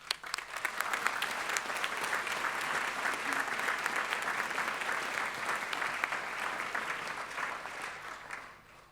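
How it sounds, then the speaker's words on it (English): Graduation ceremony crowd of graduands and lecturers giving a sustained round of applause for families and friends, many hands clapping in a thick, even roar that fades out near the end. "a round of applause for the families and friends"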